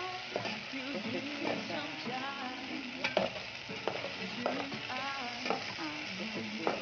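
Hotdog and potatoes frying in a pan while being stirred, with steady sizzling and repeated scraping strokes of a utensil; a quiet voice talks faintly in the background at times.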